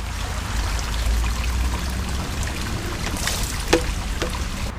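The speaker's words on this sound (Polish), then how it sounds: "Tutaj jest takie urządzenie i jak się napełni wodą, to się przelewa." Water pours and trickles steadily from a filling, overflowing device in an aquarium at the Sky Tower in Wrocław, a continuous close splashing with a couple of brief knocks near the end and no voices.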